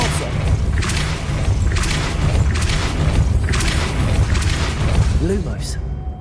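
The Depulso force spell is cast repeatedly in the Hogwarts Legacy video game, producing a series of whooshing booms at regular intervals over a dense, rumbling game soundscape.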